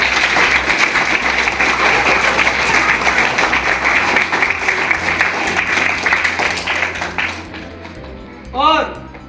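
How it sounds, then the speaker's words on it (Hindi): Loud, dense applause from a gathered audience at a farewell ceremony for staff members, steady clapping that fades out near the end, followed by a brief voice. "जोरदार तालियां इनके लिए।"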